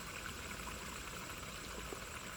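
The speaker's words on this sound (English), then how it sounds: "listen to the communications happening, let us say, even through this water, the sound of this water right here" Water flowing in a natural stream outdoors, a continuous broad babbling rush, close and steady throughout with no voices over it.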